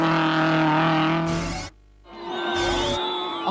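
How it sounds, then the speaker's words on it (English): Toyota Hilux race truck in an off-road race: a loud, close engine with revving and shifting pitch, briefly cut off by a gap, then resuming with more revving. "a steady drive had taken Piet Kotze and Solomon Victor to the front of Class E in a Toyota Hilux"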